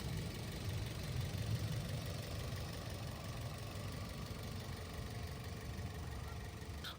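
A 2012 Toyota Vios 1.5 ES with automatic gearbox idles at a steady, quiet, even hum with no surges, heard alone throughout.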